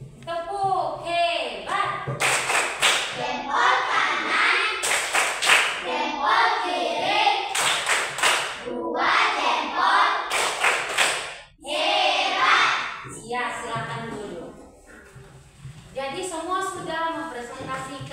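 A classroom of students doing a rhythmic group clap together, sharp bursts of clapping in patterned sequences with children's voices and talking mixed in throughout.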